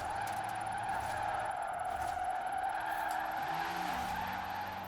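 An electric drift car in Forza Horizon 4 slides with a steady, sustained tire skid and squeal. It holds loud and even for several seconds with faint engine whine and no talk.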